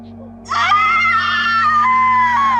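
A woman lets out one sustained, high, wavering scream. It starts suddenly, lasts about two seconds and sounds near and loud over a steady low electrical hum.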